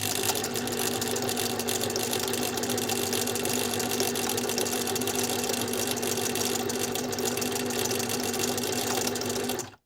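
A Singer 6785 sewing machine stitching a buttonhole, a steady close, loud mechanical whirring hum that runs continuously and cuts off abruptly at the end.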